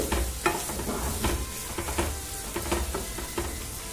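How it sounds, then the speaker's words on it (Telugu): Onions frying in a pan for mutton fry sizzle constantly and up close, with the scrape of a spoon stirring them in an uneven rhythm, and no voices. "ఈ ఆనియన్స్ కొంచెం వేగాలి."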